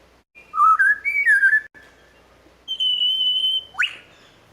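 A lyrebird at a wildlife sanctuary giving mimicked whistling calls: a few clear, rising and wavering whistled phrases with short gaps, the last a long steady whistle ending in a quick upward sweep.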